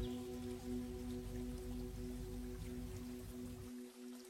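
Steady rain falls in a dense, even patter with a faint hum beneath it, continuing unbroken before cutting off abruptly near the end.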